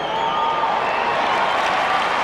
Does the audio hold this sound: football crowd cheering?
yes